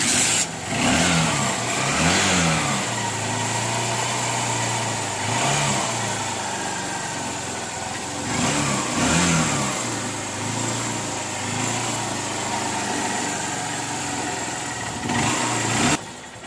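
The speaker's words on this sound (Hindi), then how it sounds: "ये तो एक ही किक में चालू हो गया है।" A motorcycle with a freshly changed spark plug kick-starts and keeps running, its engine chugging and revving in uneven bursts before settling into a steady, loud, close idle with no talk over it.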